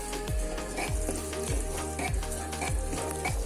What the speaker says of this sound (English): Just keep on mashing the rice and dal with the jaggery syrup